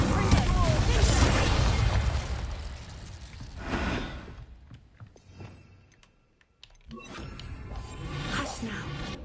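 Incendio and Confringo spells cast in Hogwarts Legacy, giving loud, broad fiery bursts and booming blasts, with a quieter lull midway before another rumbling burst.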